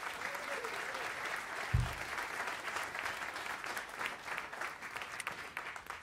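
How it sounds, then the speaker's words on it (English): A jazz club audience applauds for a drummer after a live set, with steady, moderately distant clapping and a few cheers, plus a brief low thump partway through. "Please keep that round of applause going for the incredible Corey Fonville on the drums"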